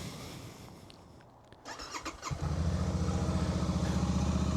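A Royal Enfield Shotgun 650 motorcycle engine fires up after a few quiet seconds of faint handling noise, then settles into a steady, close, loud throbbing idle with no voices.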